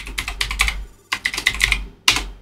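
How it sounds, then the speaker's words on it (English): A password is typed on a computer keyboard in three quick bursts of close, crisp key clicks, separated by short pauses. "Helps if I type in my password correctly."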